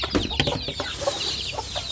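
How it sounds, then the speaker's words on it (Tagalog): Small young chickens kept penned together, clucking and peeping in quick overlapping calls close by, steady throughout with no one talking. "Nara kong mga chicken dire guys"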